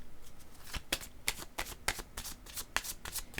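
A deck of tarot cards is shuffled close up, a steady run of soft riffling snaps and slaps repeating in quick rhythm, quiet and alone without talk.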